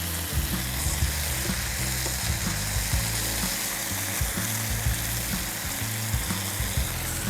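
Steak frying in a hot pan with fresh thyme gives a steady, close sizzle with crackling pops, punctuated by soft knocks and scrapes as the meat is moved, with no voices.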